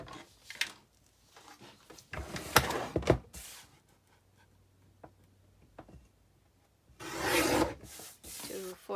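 Paper being trimmed for a fold-out envelope gives soft rasping, rubbing cuts in a few separate bursts, close and quiet, with near silence between strokes.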